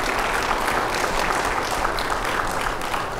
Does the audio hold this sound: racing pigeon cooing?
no